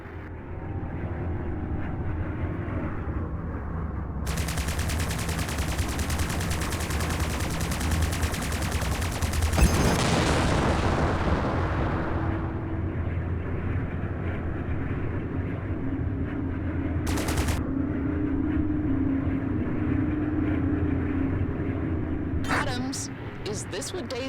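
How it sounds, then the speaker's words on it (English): Plasma cannons fire in the space combat game Strike Suit Zero as a dense, loud barrage of energy shots that roars for several seconds and then fades under a steady engine and ambient hum, with voices in the background. "Don't forget, plasma cannons drain weapons energy."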